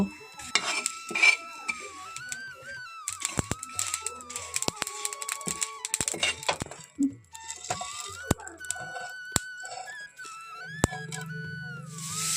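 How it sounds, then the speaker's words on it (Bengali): Cinnamon, pepper, cumin, coriander and fennel dry-roasted on a hot tawa, with repeated sharp scrapes and clinks of a utensil stirring the whole spices, close by, under a faint whistling tone and brief background noise. "এখন এই সবগুলো উপকরণ আমি শুকনো তাওয়াতে এইভাবে ভেজে নেব"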